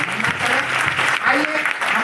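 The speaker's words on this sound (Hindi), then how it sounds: "जोरदार ताली बजाकर" Loud applause from a church congregation after a healing testimony, a dense steady wash of clapping for about two seconds with voices mixed in.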